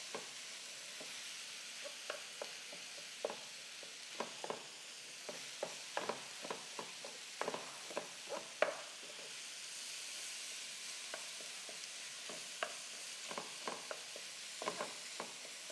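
Sausage frying in a pan with the grease draining off: a quiet, steady sizzle broken by scattered sharp pops and spatters, with no voices.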